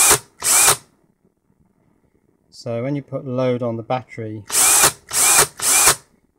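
A Ryobi cordless power drill on an 18V 2.4Ah lithium battery whirs loudly in two short bursts, then someone talks, then the drill revs in three more strong bursts close by.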